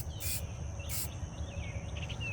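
Spray can hissing paint onto an old duck decoy being refinished as a hen bluebill, in two short bright bursts over a faint steady background.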